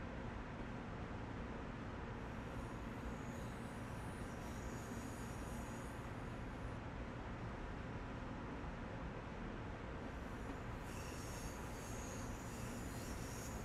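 Train Sim World 4 M3 commuter train in motion, compared to London Underground stock, giving a steady, dense rumble with rail noise and some high hiss throughout, fairly loud and continuous with no voices.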